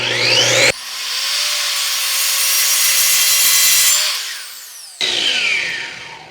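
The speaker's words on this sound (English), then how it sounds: "Now I'm going to cut this bar stock." An Evolution R255 SMS+ miter saw cuts through metal bar stock, giving a loud, steady high-pitched grinding whine that lasts several seconds. The blade keeps spinning freely before and after the cut.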